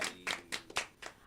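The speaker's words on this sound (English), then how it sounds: "clap it up" A few people clap their hands in a small room, about six sharp, close claps in an uneven rhythm with short pauses between them.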